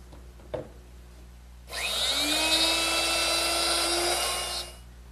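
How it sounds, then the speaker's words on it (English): A router cutting a narrow, deep mortise in wood with a jig, spinning up with a rising whine into about three seconds of loud, steady high-pitched cutting noise that then stops abruptly. "modified the jig by adding some thicker sides for a narrower mortise and lowered my router to make it deeper"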